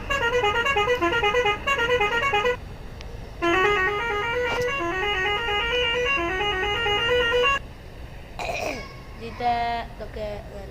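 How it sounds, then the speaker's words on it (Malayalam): Loud, sustained multi-tone vehicle horns from the game Car Parking Multiplayer, several blasts with stepping, melodic pitch patterns like a tour bus horn, separated by brief gaps, ending in shorter warbling honks. "നമുക്കപ്പോൾ ഇതിലേ ഒരു ഹോണ് നോക്കാം"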